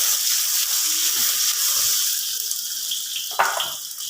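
Cumin seeds and mixed spices sizzle in hot oil in a pan with green chili, a loud steady hissing fry with a few small pops and clinks near the end.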